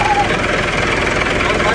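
A tractor engine runs in the Cholistan desert near Bahawalpur with a loud, steady drone from start to finish, and voices may be mixed in.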